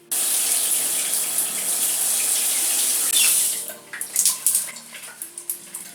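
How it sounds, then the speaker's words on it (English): Tap water gushes steadily onto hair coated in banana cream deep conditioner, a loud continuous spray that cuts off after about three seconds, followed by wet squishing and dripping. "I'm gonna add a little bit more water to it, which is how I normally do my hair"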